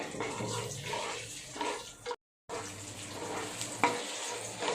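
Cashews and white cumin fry in a pan for jeera rice, giving a steady close sizzle with some stirring scrapes. A short silent gap breaks the sound partway through.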